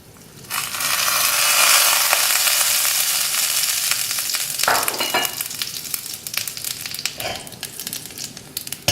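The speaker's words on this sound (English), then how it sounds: "when the pan is heated, I'm going to put in my spices, the mustard seeds, fennel seeds and cumin seeds" Mustard, fennel and cumin seeds hit hot oil in a pan and burst into a loud crackling sizzle, peppered with sharp spluttering pops that ease off slightly toward the end.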